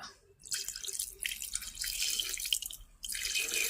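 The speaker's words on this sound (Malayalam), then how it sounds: "ഇത് നമ്മൾ കള്ളും കൊണ്ട് ഇതിൻ്റെ കൂടെ ഒഴിക്കുക" Toddy pours steadily into rice batter in two long splashy streams with a short break between, close and fairly quiet, with a faint drip at the start.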